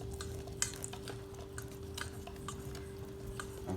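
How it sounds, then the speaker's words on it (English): Pancake batter being stirred by hand in a bowl at home, a steady low scraping swirl with faint clinks of the utensil against the bowl, close and continuous with no talking. "Hold that thing because you need to mix it thoroughly. Keep mixing."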